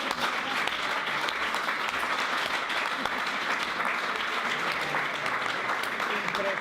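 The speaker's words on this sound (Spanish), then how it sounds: "me gustaría un aplauso muy grande para la traductora" An audience applauds a translator at a talk on peace, secularism and women's rights in Afghanistan, a steady, dense wash of clapping sustained evenly throughout with no voices over it.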